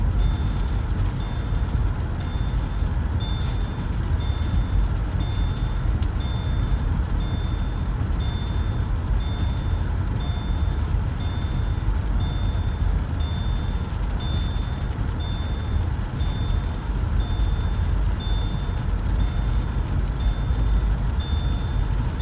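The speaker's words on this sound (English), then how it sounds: "Sorry about the beeping sound" A reversing vehicle beeps in a steady repeating pattern throughout, high and regular, over loud continuous rumbling road and wind noise during a flash flood storm chase in Arizona.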